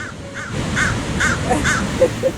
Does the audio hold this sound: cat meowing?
no